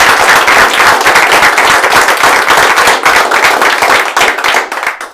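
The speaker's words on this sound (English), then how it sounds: "So let's give them a round of applause." Dense, loud clapping from a board meeting audience honoring retiring district staff, continuous for several seconds before tapering off at the close.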